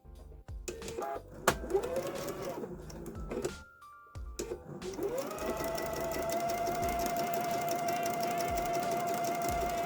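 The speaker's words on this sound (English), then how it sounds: "we're going to sew diagonally from one corner to the other" A sewing machine runs as it stitches diagonally from corner to corner across fabric binding, starting in short bursts and then settling into a steady, continuous motor hum close by.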